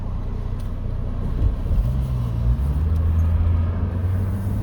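A 2006 Chevy Trailblazer engine idles steadily while stopped, a low, even rumble heard from inside the cabin with no talk over it.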